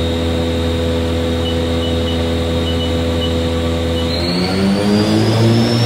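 The spindle of a 2005 HAAS VS-3 CNC vertical machining center runs up to speed, a loud steady mechanical whine with layered harmonic tones that shift and climb near the end as the speed rises, close and without talk.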